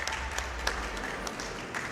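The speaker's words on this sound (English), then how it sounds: "Clapping for almost falling down" Steady applause from the audience at a Summer Games Done Quick 2017 speedrun event of Okami HD, a continuous moderate wash of many hands clapping, heard from a distance throughout.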